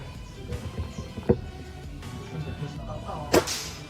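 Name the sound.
PCP wooden-stock air rifle shot hitting target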